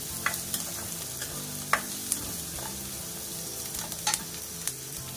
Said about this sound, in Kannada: ಈರುಳ್ಳಿ ಸ್ವಲ್ಪ ಫ್ರೈ ಆಗಲಿ ಸಾಕು, ತುಂಬ ಟ್ರಾನ್ಸ್ಪರೆಂಟ್ ಆಗೋದು ಬೇಡ